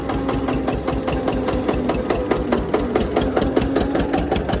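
An Eicher tractor engine runs while a trolley is hitched during potato sowing work: a steady, rhythmic diesel knock that sounds close and fairly loud, with no talk over it.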